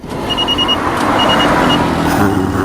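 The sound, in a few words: car making a U-turn on Marine Drive road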